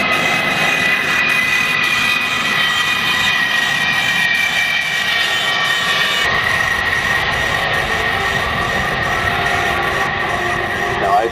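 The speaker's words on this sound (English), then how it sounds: "That's 28 wheels hanging down underneath that aircraft." Large military transport jet flying past low at an airshow at Westover Air Force Base with its many-wheeled landing gear and flaps extended, a loud continuous engine roar that holds steady throughout.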